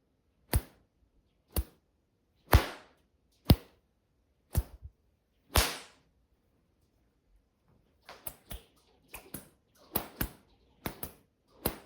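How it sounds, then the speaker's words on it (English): Light control puffs from a matched Mike Murphy bullwhip, about a dozen sharp snaps at an easy pace, the first six well spaced and the rest coming faster in a quicker run. "a control puff is the slowest speed the whip will roll out with a natural rollout and finish on target with a light puff"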